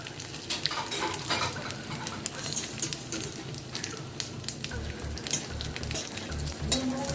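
Dry red chillies and panch phoron crackle in a small amount of oil for a pumpkin chutney, giving a continuous faint sizzle broken by scattered stirring scrapes and clinks.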